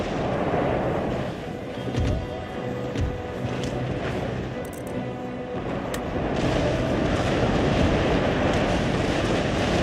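Naval broadside cannon fire in Total War: Empire rolls out as a dense, rumbling barrage of booms. Shots overlap into a continuous heavy roar that swells toward the end, with no voices.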